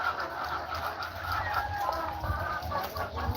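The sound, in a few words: chickens squabbling on a farm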